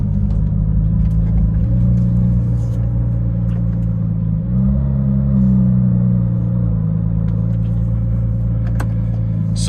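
A Porsche GT3 with a heavy clutch idles and creeps at low speed while being parked, a steady deep engine rumble with a slight swell midway, close and continuous, no talking over it.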